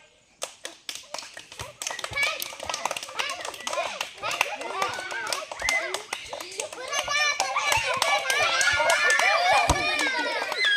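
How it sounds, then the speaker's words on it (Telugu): Children playing a running race game, those on the center line clapping their hands; scattered sharp claps at first that build into quicker, denser clapping, mixed with children's voices and shouting. "సెంటర్ లైన్లో ఉన్న వాళ్ళు క్లాప్స్ కొట్టాలి"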